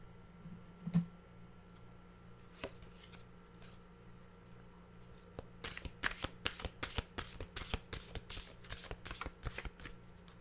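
Mantra cards being shuffled: a brisk run of crisp, riffling card flutters fills the second half, following a few isolated taps and rustles over a quiet background hum.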